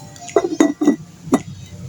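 A metal lid set onto a pot of sinaing na tawilis on the cooker, four close, bright clinks and rattles in quick succession.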